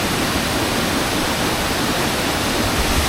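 Small natural waterfall on Koh Samui: steady, close, dense rushing of falling water, loud and unbroken throughout with no voices.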